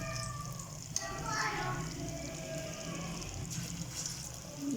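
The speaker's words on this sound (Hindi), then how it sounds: "अब हम इसके अंदर पकोड़े फ्राई करना शुरू करेंगे" Spoonfuls of pakora batter frying in hot oil in a home kitchen, a soft, constant crackling sizzle beneath a person's steady talking.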